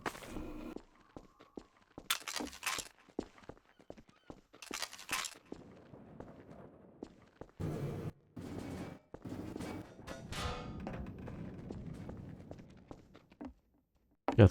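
Suppressive gunfire in Half-Life 2: Lost Coast, with scattered bursts of shots and sharp cracks separated by quieter gaps holding footsteps and movement, moderately loud and uneven.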